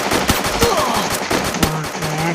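Gunfire in the mobile shooter game Free Fire, a run of sharp, separate shots fired one at a time in an uneven rhythm, loud and close, with faint game voices or effects between them.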